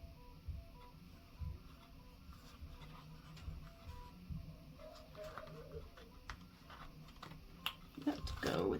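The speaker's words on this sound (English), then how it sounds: "My husband has the 3D printer going in the next room." Faint mechanical whirring and soft rhythmic ticking from a 3D printer running in another room, with occasional distant voices and small clicks.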